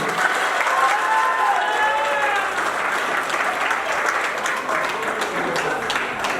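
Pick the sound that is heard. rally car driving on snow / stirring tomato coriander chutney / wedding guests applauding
wedding guests applauding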